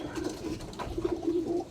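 Soft, low rolling coos from a racing pigeon in a fancier's loft, a few close murmuring calls in quick succession.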